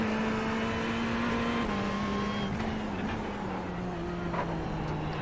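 GT3 race car in iRacing, onboard through the Nordschleife Carousel, engine holding a steady loud drone with slight pitch dips as it loads through the banked corner, alone without voices.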